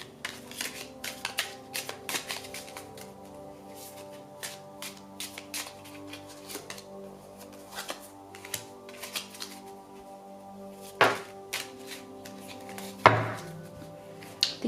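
Tarot cards being shuffled by hand, a string of quick, crisp riffling and tapping bursts, close and fairly quiet, with a couple of louder slaps near the end.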